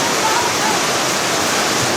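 Heavy typhoon rain pouring down in a dense, constant hiss, loud and unbroken with no pauses.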